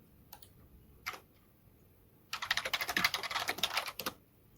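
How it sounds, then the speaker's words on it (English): Fingers type on a computer keyboard while entering text into a Python program, with a few isolated key taps and then a quick, rapid run of clicking keystrokes, close and quiet, and no speech. "Let's run it again and type peanut butter cup."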